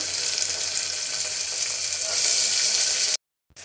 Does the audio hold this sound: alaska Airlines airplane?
no